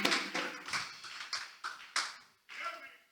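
A church congregation claps to acclaim the Lord Jesus at the close of a service, a handful of distinct, fairly faint bursts of clapping in an uneven rhythm, each fading quickly before the next.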